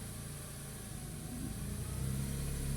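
The engine of a 2000 Smart Fortwo 450 with a clutch actuator fault runs steadily at idle as reverse gear is engaged, its low hum swelling slightly toward the end.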